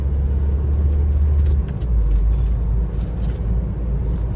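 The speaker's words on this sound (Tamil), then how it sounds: "ஸோ 4th கியர் இருக்க வண்டி." Car cruising in fourth gear on a freshly laid road near Vellore, a steady low engine drone with tyre and road rumble heard from inside the cabin, continuous and fairly loud throughout.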